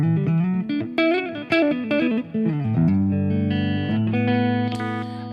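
Electric guitar played through a Fractal processor with a little reverb, with sustained notes and chords in a clean-to-crunch tone. Phrases ring out with a wet ambient tail, and the last notes hold and decay.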